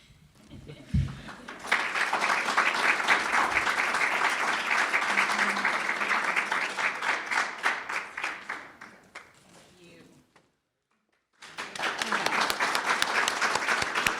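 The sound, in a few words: audience clapping at awards ceremony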